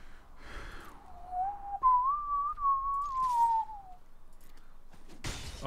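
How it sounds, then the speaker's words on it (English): A single person whistles a sustained, gently wavering tune for a couple of seconds, clear and fairly close, between brief rustles and a thump. "Oh, he whistling."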